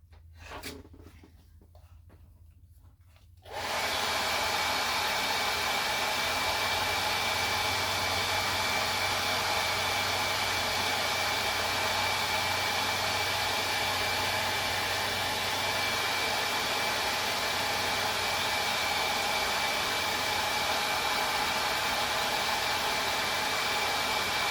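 Hair dryer blowing on a handmade Christmas ornament, switching on after a few quiet seconds and then running as a loud, steady, unbroken roar close by.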